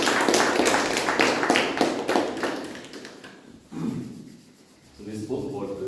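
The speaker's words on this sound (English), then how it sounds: "Let's clap for all the evaluators." A room full of people at a Toastmasters club meeting applauds the evaluators with dense, steady clapping for about three seconds, then it fades and a single voice begins speaking.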